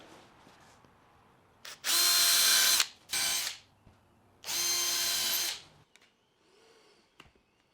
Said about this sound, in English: So next I'll drill the centre for a pin